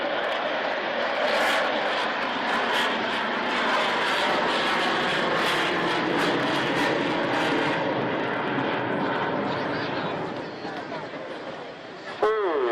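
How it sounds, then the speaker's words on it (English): Fixed-wing aircraft at an airshow flying past with undercarriage lowering as it comes in to land, a loud sustained engine roar that fades near the end, with a commentator talking over it. "There's the undercarriage going down now, so it's going into a landing configuration."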